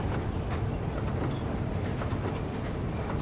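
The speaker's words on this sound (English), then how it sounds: "The train is still moving" A moving train rumbles steadily with a dense low roar and faint rhythmic clatter of the wagons, continuous and even with no voices.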